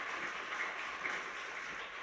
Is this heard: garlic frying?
no